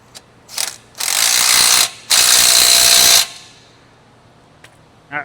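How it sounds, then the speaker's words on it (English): A 13 mm ratchet wrench tightens an exhaust ball clamp on a Gen 3 Can-Am Outlander with an MBRP exhaust, giving two long, loud, steady ratcheting runs after a few short clicks, close and alone. "I'm gonna go ahead and tighten down that ball clamp with a 13 mil."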